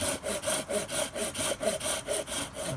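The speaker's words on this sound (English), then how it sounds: "The saws don't really like to go along the grain" Hand saw cutting wood at an angle, partly along the grain, to shape a kuksa handle: steady, close rhythmic back-and-forth strokes, about four per second, with no talking.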